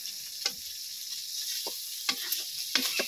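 Fish frying in a pan, a soft, steady sizzle in the background broken by several sharp scrapes and taps of a spatula, with no voices.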